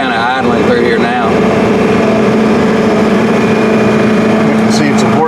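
John Deere 4840 tractor pulling a 16-row 845 cultivator through a field, the engine idling with a steady low drone and hum throughout, loud and close, while someone talks over it.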